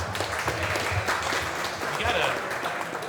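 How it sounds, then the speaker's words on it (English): Applause from an audience at a live real estate wholesaling event, steady clapping that runs under and between people talking nearby. "A round of applause for them."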